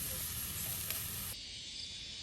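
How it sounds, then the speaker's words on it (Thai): Pork sizzling on a Thai moo kratha tabletop grill, a steady close hiss and crackle that drops slightly in level partway through, with no talking. "ผู้ชายย่างหมูกระทะให้เลิศเลิศ"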